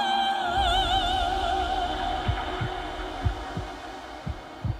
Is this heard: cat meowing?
no